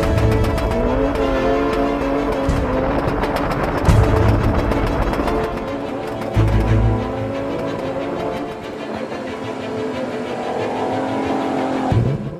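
Cars race and drift through a film chase scene, with continuous engine drone, rising revs and short bursts of tire squeal, loud and sustained under a dramatic soundtrack.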